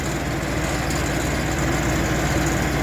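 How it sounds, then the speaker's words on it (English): A Chinese three-point PTO wood chipper runs at 540 rpm on a 40 horsepower tractor, giving a loud, steady, droning engine-and-machinery hum with no chipping bursts or talking. "So this is the chipper running. I got it running at 540, and it's on my 40 horsepower tractor."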